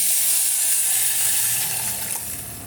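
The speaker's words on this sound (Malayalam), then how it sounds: "ഇത് നന്നായിട്ട് മൂത്ത് വരുമ്പോൾ നമുക്കിതിലേക്ക് പുളിവെള്ളം ഒഴിച്ചു" Tamarind water hits a hot, frying spice mixture for Kerala-style rasam, giving a bright, close hiss and sizzle that slowly fades over a few seconds, with no voices.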